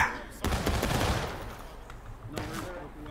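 Line infantry in War of Rights firing a musket volley, a burst of overlapping shots that swells and trails off, followed by a few scattered later shots, loud and close.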